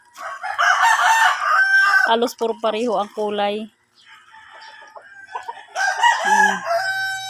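A red rooster crows in a long, loud call nearby, then a shorter second crow follows. A person speaks over the birds between the crows.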